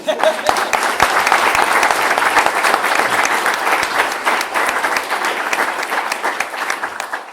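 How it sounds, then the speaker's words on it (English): An audience breaks into sustained, loud applause, dense clapping continuing evenly throughout with no pauses. "raise your hand and be recognized with a round of applause"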